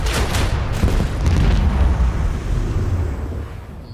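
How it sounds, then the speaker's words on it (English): Macro cannon volley in Warhammer 40K Rogue Trader, a quick burst of heavy booming blasts followed by a long rumbling explosion that fades out. "Macro cannons, volley!"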